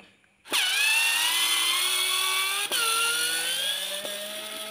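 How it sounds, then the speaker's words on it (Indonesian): A cheap cordless mini drill used as an electric screwdriver backs out screws with a close, steady high-pitched whine that starts abruptly and runs continuously, briefly dipping once as the load changes. "Tentunya dengan bor mini atau obeng elektrik ini sangat membantu sekali"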